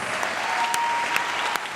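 An audience at a squash tournament final claps and cheers at a distance, a short, dense burst of applause that stays steady and moderately faint.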